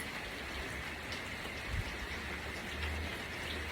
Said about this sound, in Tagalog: Sarap pakinggan yung patak ng ulan no.